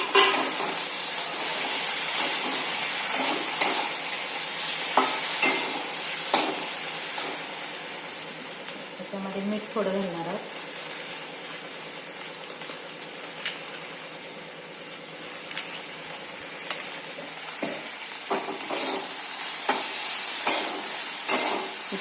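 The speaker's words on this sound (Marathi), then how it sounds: "आपण हे हलवून घेऊया त्यानंतर हे जे आहे ते परतून घेऊया" Okra stir-fried in a pan with cumin, with a continuous close sizzle and repeated scraping and clinking stirs of a utensil at irregular intervals, and no voices.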